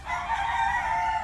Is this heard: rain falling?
no